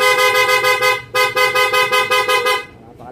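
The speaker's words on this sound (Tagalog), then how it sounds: "Then pag pinindot mo siya, magiging loud horn." A Honda Giorno 125 scooter's aftermarket loud horn blares in rapid pulsing bursts, very loud and close, pausing once briefly before continuing and then cutting off.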